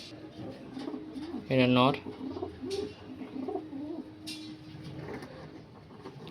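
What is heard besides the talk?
Miravwale nasal pigeons cooing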